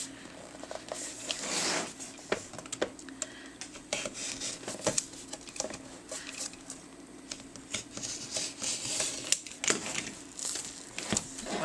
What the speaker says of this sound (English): So I'm just going to run along that spine, get in there, cut that apart.